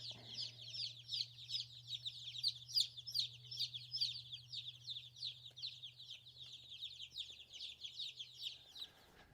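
Young chicks, new additions to a farm flock, cheeping in a steady run of high, rapid peeps, fairly faint over a low constant hum, with no talking.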